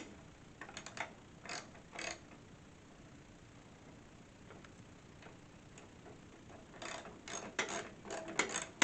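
Quick bursts of ratchet clicks from a socket wrench tightening bolts while a little red wooden wagon is assembled, heard in short, fairly faint runs separated by quiet pauses, busier toward the end.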